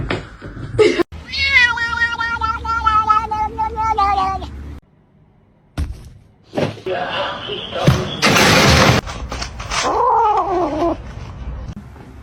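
A cat lets out long, wavering meows and drawn-out caterwauls, loud and close, broken by a short silence, with scuffling noises and brief voices in between.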